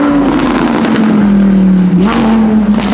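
A McLaren 720S engine revs loudly and up close, a strong steady drone that dips and then climbs again as the throttle is blipped, with no voices over it.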